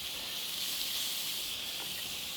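Scallops sear in a hot dry pan, giving a steady, close, loud hiss that runs unbroken throughout with no talk.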